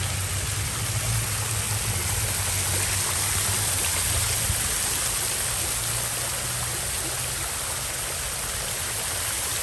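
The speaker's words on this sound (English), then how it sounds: "Well, this is a cool fountain, isn't it?" A water fountain at Center College in Danville, Kentucky splashing continuously, a dense, steady rush of falling water heard close and loud with no speech over it.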